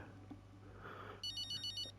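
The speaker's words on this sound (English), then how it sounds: "Oh, phone call." A telephone rings in the racing game F1 23, a repeated electronic trill in about five short bursts over a steady low background hum, no voices.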